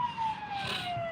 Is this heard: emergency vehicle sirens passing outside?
yes